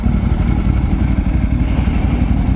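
A Ducati motorcycle engine runs close by with a loud, steady low rumble, holding an even throttle for a couple of seconds with no talk over it.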